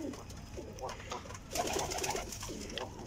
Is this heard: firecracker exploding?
no